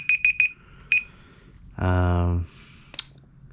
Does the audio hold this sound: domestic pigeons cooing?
no